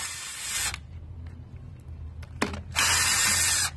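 A power tool, likely an impact gun with a 9/16 socket, rattles out bolts on an International pickup front axle hub in two loud bursts, separated by a quieter gap with small mechanical clicks.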